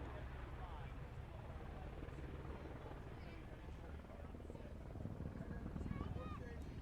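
A helicopter flies at an RAF airshow, its steady rotor and engine drone filling the air continuously while a commentator talks over it.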